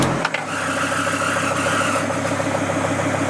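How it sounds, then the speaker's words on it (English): A used car with 380,000 kilometres on the clock starts with a brief cranking burst and settles into a steady, even idle with a low rhythmic engine rumble close by. "Now I'm gonna turn the engine."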